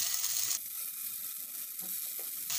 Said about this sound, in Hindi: अब हम इसमें अपने कटलेट्स को सभी तरफ से अच्छे से फ्राई कर लेंगे।